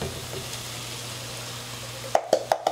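Canned corn goes into ground turkey in a skillet over medium heat, giving a steady soft sizzle under light background noise, then a few sharp scraping clatters near the end.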